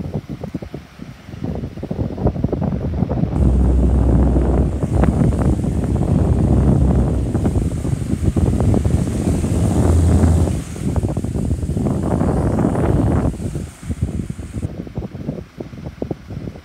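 A Dyson desk fan running on its high setting gives a loud, steady rushing whoosh of air close to the microphone, with brief dips in the blowing partway through.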